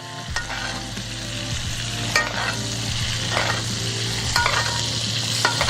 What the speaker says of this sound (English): So look, as it's cooking, we just want to go ahead and just baste.